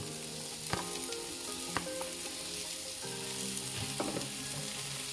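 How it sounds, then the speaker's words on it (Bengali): The hard stem pieces of vegetables for paneer manchurian fry in a pan with no added oil, giving a soft, steady sizzle with a few sharp clicks and scrapes of stirring, with a tonal hum running underneath. "এবং এটাকে ফ্রাই করতে থাকবো। সেম, আলাদা করে কোনো তেল দেবো না, এর মধ্যেই হবে।"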